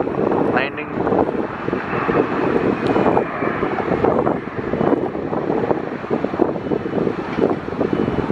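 A small airplane lands at Atlanta's airport, making a steady, loud broadband roar with gusty wind noise that lasts throughout.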